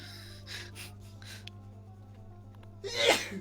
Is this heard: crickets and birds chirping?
no